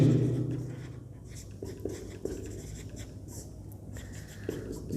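Chalk or marker strokes on a board during a Class 12 vector algebra lesson, a run of short scratchy strokes with pauses between them, close and moderately loud, with no speech over them.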